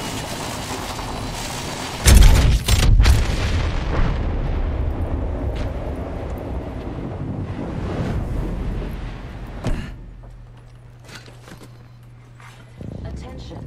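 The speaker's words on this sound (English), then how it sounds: "Gravity cannon." Heavy booming blasts and rumbling gravity cannon fire in a video game, with a loud burst early on, then quieter crackles and a low hum later.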